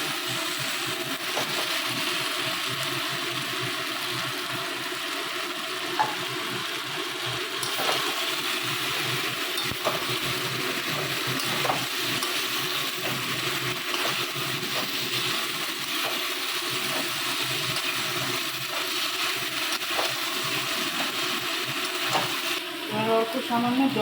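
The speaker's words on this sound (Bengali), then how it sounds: "এবার আমি ভেজে রাখা মাংসগুলো এর মধ্যে দিয়ে দেবো।" Fried chicken pieces go into a pan of curd sauce and cook with a steady sizzle and bubbling, with occasional clinks of a stirring spoon against the pan, close and continuous.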